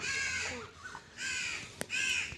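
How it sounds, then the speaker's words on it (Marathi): Several crows squabble in mango trees, cawing loudly in harsh, overlapping bursts, with short pauses between rounds of calls, close by and outdoors. "ह्या आंब्यांवरती बघा आमच्या कावळ्यांची भांडणं चालू आहेत"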